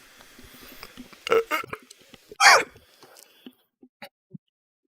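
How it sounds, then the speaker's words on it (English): Burps after drinking Monster energy drink: two loud, close belches, the second longer and stronger, among smaller gulps, clicks and mouth noises, with no talking. "You can choke alive on your burp on Monster"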